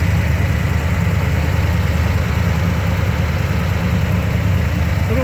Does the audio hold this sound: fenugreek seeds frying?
no